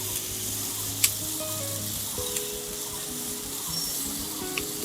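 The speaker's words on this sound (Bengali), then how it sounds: "চিনি দিয়ে আর একটু নাড়াচাড়া দিয়ে নেব" Cooked mango and cucumber with sugar being stirred in a pan, giving a steady low sizzle with soft scraping and one sharp clink near the start, and no voices.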